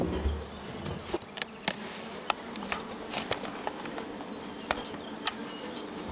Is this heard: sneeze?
no